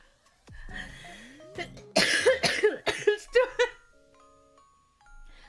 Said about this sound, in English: That does not sound like a little cough.